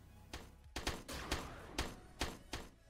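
Several heavy booming cannon shots in a video game fire in an irregular series, each a sharp thud with a short tail, over a steady low background rumble.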